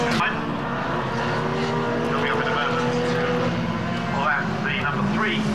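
Monoposto single-seater racing cars at Brands Hatch give a constant loud engine roar with several rising and falling passes. A commentator talks over the noise throughout.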